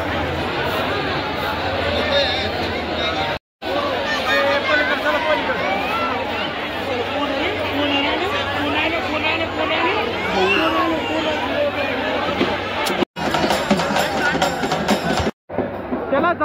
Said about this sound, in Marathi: तुम्ही बघू शकता गर्दीचं प्रमाण एवढा जास्त आहे की नाही